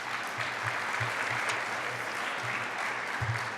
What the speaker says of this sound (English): I invite you now to give them a round of applause for all those sponsors